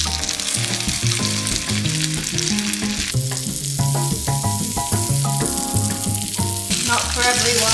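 Salmon fillets fry skin-side down in real butter until crisp, giving a steady close hiss and crackle that runs the whole time beneath loud, tuneful background music.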